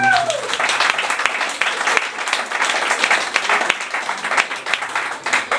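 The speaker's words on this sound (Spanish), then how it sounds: "Un aplaudiment pel Xavi Novell." An audience claps and applauds for a performer at a comedy show, dense sustained applause that fills the room from start to finish, with a voice heard briefly at the beginning.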